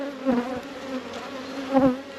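Honey bees on a beehive super frame give a close, continuous buzz, with two louder swells as bees pass near.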